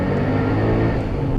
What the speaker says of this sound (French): GT3 Cup qui arrive derrière.